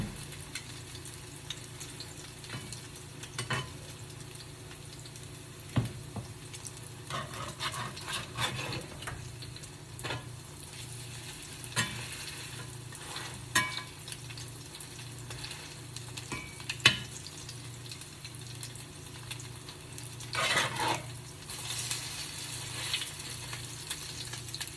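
Salmon croquettes fry in a pan with a steady, soft sizzle throughout, broken by occasional scrapes and clinks of a utensil against the pan, close and moderately quiet.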